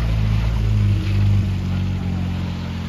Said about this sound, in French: Véhicule militaire